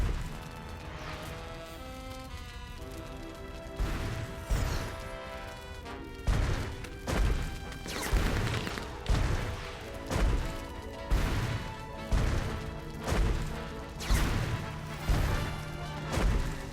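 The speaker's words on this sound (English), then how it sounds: "pointlessly smashing everything in sight" Repeated crashes and thuds from smashing everything in sight in the Sam & Max video game, heavy rhythmic impacts landing roughly every second over game music, loud and close.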